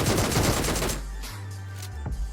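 Rapid pistol gunfire in the PUBG Mobile video game, a close burst of sharp repeated shots that stops abruptly, followed by a low droning tone and one last crack.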